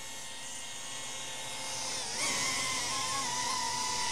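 DJI Avata 2 FPV drone motors, a steady high-pitched whine close by that rises in pitch and loudness as the drone takes off and speeds up.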